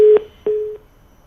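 A telephone busy signal after a disconnected call: two loud, steady beeps in a row, close and clear with no talk, followed by a short quiet gap.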